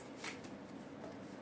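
A deck of tarot cards is shuffled in one soft, continuous riffle, close and quiet, with no voices.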